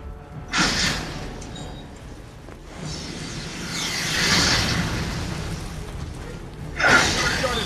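Bombing explosions in Resident Evil 6, several deep booming blasts swelling and fading over a noisy battle backdrop, with a voice speaking briefly between them.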